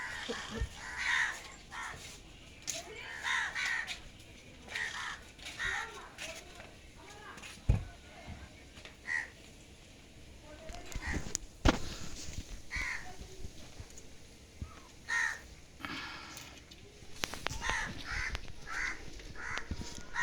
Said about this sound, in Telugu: ఎన్ని కాకులు ఉన్నాయి చూడు